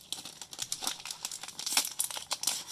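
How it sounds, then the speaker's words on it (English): Foil booster pack wrapper for trading cards crinkles and tears open in a steady run of close, crisp rustles and rips, with no talking. "Making everyone nervous with how I open booster packs."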